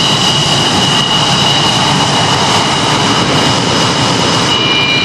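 An F-22 fighter jet's engines, a loud, sustained roar with a bright high whine running through it, unbroken for several seconds and steady in level, no talking.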